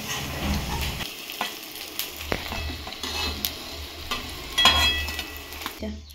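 Cauliflower pakoras sizzle steadily in hot oil, with intermittent scrapes and clinks of a utensil stirring and lifting them from the pan; no one speaks.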